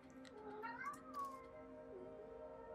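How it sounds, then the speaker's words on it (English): A cat meows loudly with drawn-out rising and falling wails, a caterwauling cry over a steady faint background hum. "Cat is making a lot of noise now."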